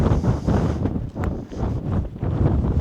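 Wind buffets the microphone at a scenic viewpoint on the Cathedral Valley Loop in Capitol Reef National Park, a loud, continuous rumbling roar with brief lulls, close and dominating throughout.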